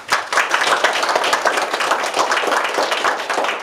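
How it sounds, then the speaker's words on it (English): An audience at a community meeting with the governor breaks into steady applause, dense and sustained clapping from many hands filling the room for several seconds. "I think he deserves a round of applause for that."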